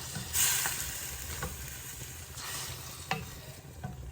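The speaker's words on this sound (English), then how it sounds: "I'm going to give that all a stir." Curry stirred in a pan: a soft, steady sizzle broken by a few sharp scrapes of the spoon, fairly quiet and close.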